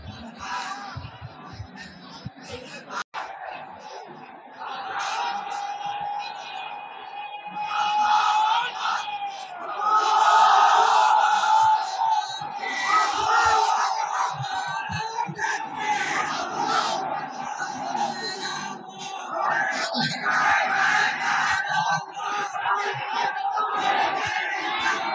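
Large crowd at a religious lecture chanting takbir, many voices shouting together in swelling bursts that rise and fall, loud and massed, with a lone voice leading the call.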